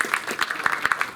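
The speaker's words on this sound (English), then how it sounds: "please give Dr. Edwards a round of applause." Brief burst of audience clapping at a law school admissions workshop, a quick run of separate claps from a modest crowd, fairly close and short-lived.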